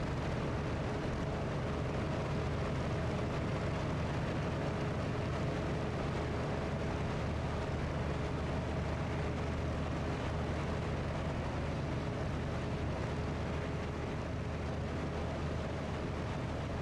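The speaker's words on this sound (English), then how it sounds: "I can hear a roar of your jet flying around us at the same time." Inside DCS World, a Yak-52 piston engine drones continuously while an F-16 jet roars nearby, forming a loud, steady, dense engine rumble with no breaks and no talking.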